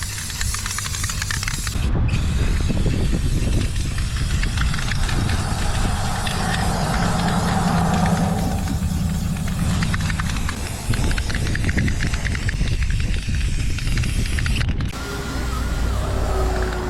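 A spray can applying a coat of paint to a wheel hub from a Ford F600 truck, a loud, continuous close hiss with creaking and mechanical noise under it, broken by two short pauses.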